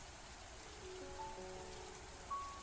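Steady rain falling in the game Mamiya, a soft, even patter that stays quiet and constant, with faint brief tonal notes drifting over it.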